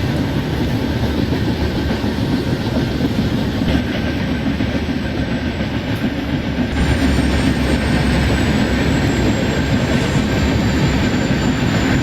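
A Duronto express train runs in the Indian Train Simulator game, a loud, steady rumble of rolling coaches with a continuous roar and no talk over it.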